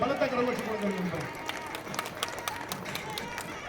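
Audience claps in a hall at a school annual day function, a brief burst of scattered applause under a speaker's amplified voice.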